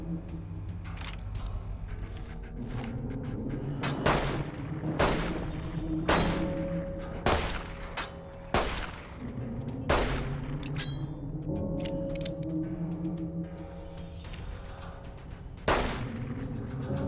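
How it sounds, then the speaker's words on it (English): Fireworks going off in Fallout 3 / New Vegas, a steady run of sharp bursts and crackling pops at irregular intervals over a dense, rumbling background, some blasts loud and near, others softer. "The fireworks we see and the fireworks we hear do not line up at all"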